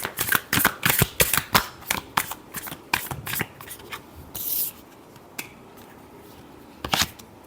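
Tarot cards are shuffled up close in a rapid series of crisp riffles and snaps, which thin out to a few scattered flicks and a final burst near the end. No one speaks.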